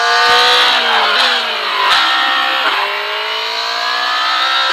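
F1 race car engine in an F1 2027 career-mode testing session, rear tires spinning: a loud, steady high-pitched engine whine that climbs in pitch through several gear-change steps, with no talk.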